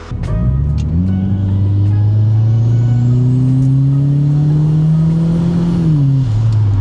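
A Mitsubishi Lancer Evolution IX wagon engine revs up and holds a rising, throaty drone as it accelerates, loud and close, then drops back down near the end.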